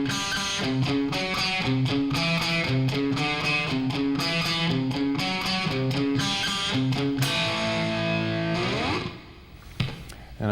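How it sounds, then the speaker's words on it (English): A twangy, overdriven electric guitar picks a fast, busy lick of rapid repeated notes for about nine seconds, then ends on a ringing, bending note that fades out. No voice is heard. "I use sort of a twangy kind of guitar sound"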